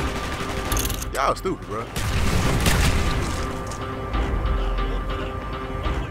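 Gunfire and explosions from the video game Call of Duty: Black Ops, heard as loud bursts and booming blasts mixed with game noise, while a player talks over it.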